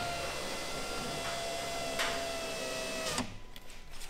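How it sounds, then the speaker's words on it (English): VW T6 van electric door window rising: a steady motor whine with a faint tonal hum for about three seconds, ending in a soft thump as the glass seals, then quieter rustling. "put the window up"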